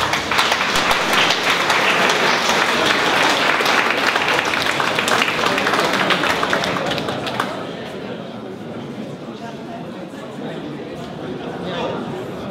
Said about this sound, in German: ich denke, es können ruhig mal klatschen dafür